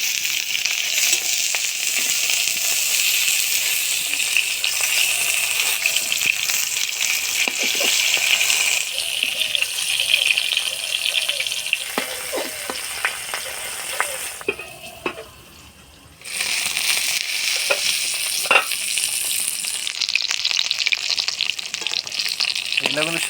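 Bata fish wrapped in bottle gourd leaves, a paturi, fries in a pan with a loud, continuous sizzle. The sizzle briefly drops away as the parcel is flipped, then surges back, with light scraping now and then.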